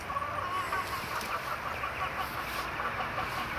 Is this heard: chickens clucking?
yes